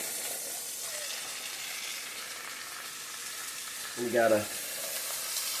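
Pot roast sears in a hot pan, a steady sizzling hiss that runs throughout, briefly swelling louder as the meat shifts, with a short spoken phrase over it.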